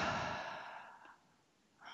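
Deep, slow exhale through the mouth during a guided meditation, a single long breathy whoosh close to the microphone that fades out, followed by a faint intake of breath.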